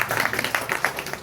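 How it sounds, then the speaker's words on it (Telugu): An audience claps at a religious talk on the Ramayana, a short burst of scattered, uneven hand claps, fairly faint and thin. "అమ్మ చప్పట్లు కొట్టండమ్మా."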